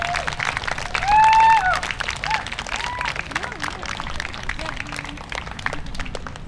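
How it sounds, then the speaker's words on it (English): An outdoor crowd at a higher-education day-of-action rally claps steadily, with voices and shouts riding over the applause, which peaks briefly early on. "Okay, now I'm going to ask you for one more round of applause."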